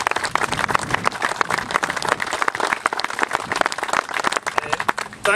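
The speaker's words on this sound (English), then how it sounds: "Please give a round of applause to Stuart Maxwell MSP." An outdoor audience at the Stirling Bridge saltire-raising event gives a round of applause for Stuart Maxwell MSP, with close, uneven hand claps of many people that thin out near the end.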